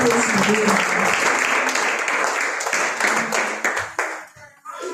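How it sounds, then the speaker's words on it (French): A church congregation at a Sunday service claps loudly and steadily in praise, a dense roar of hands with voices underneath, fading and breaking off near the end. "Applaudissons très fort pour la gloire de Jésus."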